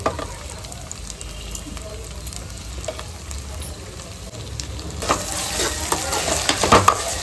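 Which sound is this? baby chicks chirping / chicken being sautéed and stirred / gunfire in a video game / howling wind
chicken being sautéed and stirred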